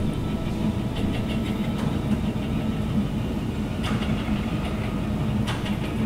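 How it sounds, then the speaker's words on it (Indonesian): A steady low engine drone from heavy construction machinery working a night-shift project near a market, continuous and fairly loud, with occasional faint clanks and hisses over the rumble and no talk. "Suara-suara mesin ya. Ini suara proyek."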